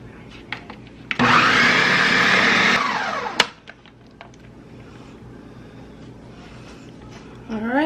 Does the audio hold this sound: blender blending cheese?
yes